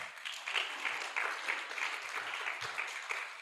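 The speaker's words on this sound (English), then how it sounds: "Hey, Zach, you can clap." Audience clapping at a community meeting, moderately loud and sustained for a few seconds with no talk over it.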